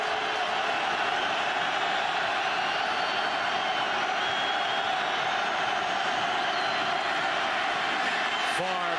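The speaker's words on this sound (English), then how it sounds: "Crowd gets into it on 3rd and 3." A packed NFL stadium crowd at an Eagles–Packers game roars steadily through a third-down play, a continuous loud wash of cheering that never lets up, with a commentator talking over it.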